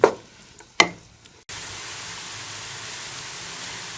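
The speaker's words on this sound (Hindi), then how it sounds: "प्याज को फ्राई कर लेंगे।" Chopped onions hit hot ghee in a pan with two sharp clatters, then a steady, quiet, hissing sizzle fills the rest.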